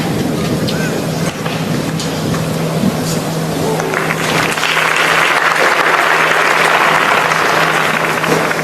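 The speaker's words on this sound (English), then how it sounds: "I thought they might be recalled with that ripple of applause going around the stadium." A ripple of applause spreads around an athletics stadium before a women's 200 metres semi-final, distant and diffuse under a steady roar of crowd noise that swells in the second half.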